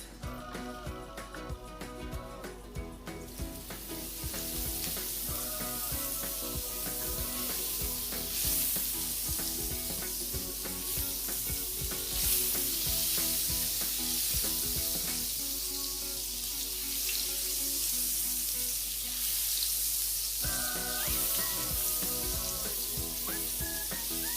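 Butter melts and sizzles in a hot pan for garlic butter shrimp. A crackling sizzle builds after a few seconds and stays steady and close, with occasional stirring scrapes and a faint background musical tone, and no voices.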